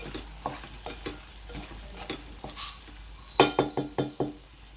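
Potato, capsicum and tomato curry stirred in a pan over medium heat, a soft simmering sizzle under repeated spoon scrapes, ending in a quick run of louder knocks against the pan.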